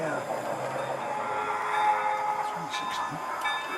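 A long model railroad train climbs an uphill grade on a layout, a continuous rolling rumble with faint metallic squeals, while people talk quietly nearby.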